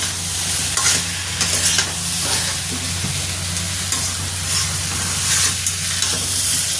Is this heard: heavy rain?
no